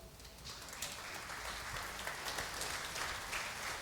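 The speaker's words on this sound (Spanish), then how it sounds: "Mire, démosle un aplauso." A church congregation applauds a couple presenting their newborn baby, a faint, distant wash of steady clapping that continues throughout without talk.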